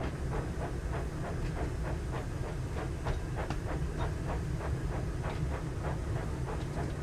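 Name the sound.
Class 08 locomotive engine in video game Train Sim World 5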